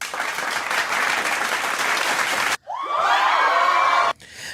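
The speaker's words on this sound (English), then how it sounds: "Or maybe we should just clap and cheer." A crowd claps and cheers loudly and steadily for a few seconds, breaks off briefly, then comes back with bright whoops and cheering voices layered over the applause.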